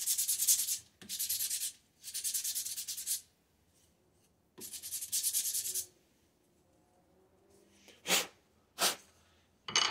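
Sanding stray wood strings off homemade wooden tappet holder rods for a Cummins 5.9/6.7 engine: close, harsh rubbing strokes in several long bursts, followed by a few short scrapes.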